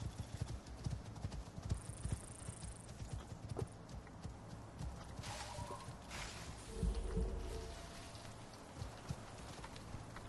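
Horse hooves in the game Icarus clip-clop steadily at a walking pace, with a soft rain-like hiss throughout and a brief whinny partway through.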